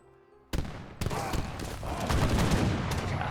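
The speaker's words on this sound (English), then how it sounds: "the field guns are getting in some pretty good shots" Field guns in Age of Empires III let off a sudden booming volley, then a second blast and a dense, sustained barrage of gunfire and battle noise, loud and close.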